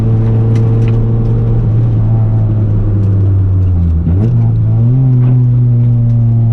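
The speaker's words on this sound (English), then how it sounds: "You really have to stab the throttle all the way down." A Honda CRX engine hums loudly and steadily inside the car, with pitch dipping then climbing as the throttle is pushed, a strong droning tone throughout.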